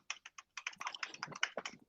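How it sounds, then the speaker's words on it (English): Loud computer keyboard typing, a rapid irregular run of sharp clacking keystrokes in short bursts, close and alone. "Dog Lord's typing on his extremely loud keyboard again, as usual."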